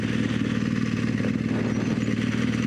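Adventure motorcycle idling in neutral on a hillside, a close, constant low engine rumble with an even, unbroken throb and no talking.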